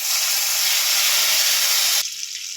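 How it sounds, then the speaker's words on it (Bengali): Bay leaves, small cardamom pods and a medium tomato sizzle in hot oil, a loud, steady frying hiss that drops abruptly near the end, with no voices. "তেলের মধ্যে দুটো তেজপাতা দিয়ে দেবো ফোড়ন চারটে ছোটো এলাচ একটা মাঝারি সাইজ টমেটো নিয়েছি দিয়ে দেবো"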